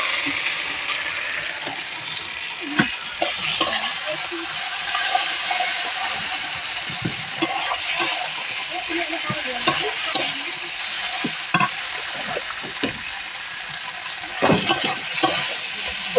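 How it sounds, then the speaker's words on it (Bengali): Chicken pieces fry with spices in a pan, a continuous close sizzle broken by repeated scraping and clacking spatula strokes, with sharper knocks now and then and no voices. "এটাকে ভালোভাবে ভেজে নেব।"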